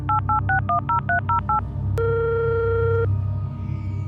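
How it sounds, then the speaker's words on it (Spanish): A row of about a dozen short touch-tone keypad beeps as a phone number is dialed, followed by a single longer steady tone, all close and clear over a low background hum. "Se sentó a mi lado y tecleó el siguiente número."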